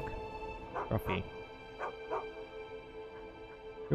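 A dog in the Beyond Skyrim Bruma mod lets out a few short yips and barks in quick bursts, heard close over a low steady hum, with a voice speaking nearby.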